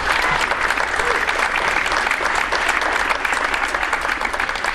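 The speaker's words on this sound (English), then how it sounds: "So please give our seniors a round of applause" A school spring concert audience gives the seniors a loud, full round of applause, with dense clapping from many hands that stays steady and close throughout and a faint crowd murmur underneath.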